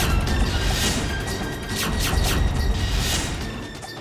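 An auto rickshaw collision in a TV drama scene, a loud noisy crash impact followed by rattling, clattering debris and jangling metal for several seconds.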